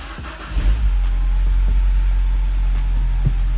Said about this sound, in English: So what we're gonna do, let's start the car.